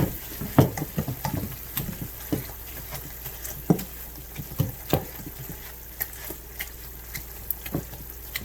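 Cooked vegetables in a coleslaw mixed vegetable curry are crushed in the pot, giving irregular soft squelching taps and pats close up, with a faint sizzling bed underneath and no talking.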